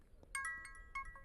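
A phone ringing with an incoming call: a short, faint electronic ringtone of a few bright tonal beeps.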